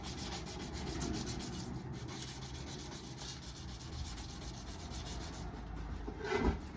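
Sanding with 400 grit abrasive makes a continuous close rubbing scrape with quick back-and-forth strokes and a brief louder scuff near the end, with no voices.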